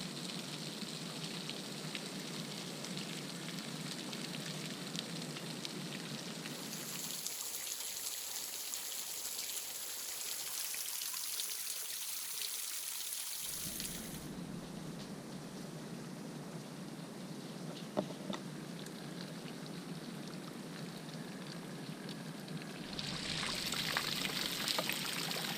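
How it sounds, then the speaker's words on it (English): Water cascading down over an ancient volcanic landscape after recent rain, a steady broadband rush of flowing water that continues throughout, briefly dipping quieter partway through and never giving way to any talk. "the beautiful cascades of water flowing off the ancient volcanic landscape"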